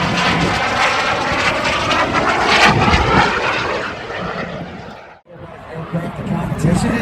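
A propeller aerobatic plane drones loudly overhead at an airshow while flying a four-point hesitation roll, its engine note wavering steadily and dipping briefly before returning, with a voice talking over it.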